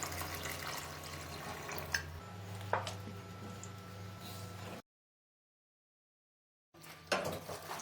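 Water from a glass is poured into a pot of taro root (arbi) cooking with green chilies, a steady splashing pour that breaks off into silence and then resumes briefly.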